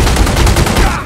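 Rapid gunfire in The Godfather II video game: a dense run of sharp, overlapping shots fills the second at close, loud range, easing off slightly at the end.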